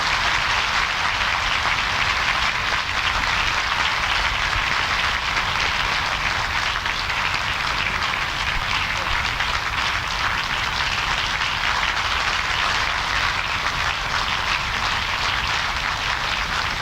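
A studio audience at a 1991 Korean public radio broadcast claps steadily in welcome, a dense, sustained wash of applause with no gaps, fairly loud and close throughout.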